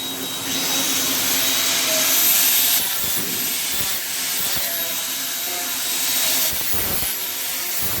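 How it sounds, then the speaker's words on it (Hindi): A grinder trims the corners of molded plastic pieces in a plastic molding factory in South Korea, making a loud, continuous whirring hiss with intermittent scraping bursts as the parts are worked. "ये देखिए, अभी ये ग्राइंडर करेगा इसको।"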